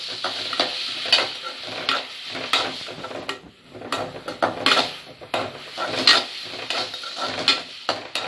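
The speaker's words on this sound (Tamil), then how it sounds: "இப்போ நம்ம அதில் கட் பண்ணி வச்ச வெங்காயம், கறிவேப்பிலை போடுறோம்" Chopped onion and curry leaves fry in a home pan for a brinjal masala, a steady sizzle broken by repeated scraping stirs and clinks of a utensil against the pan, close and fairly loud, with no talking.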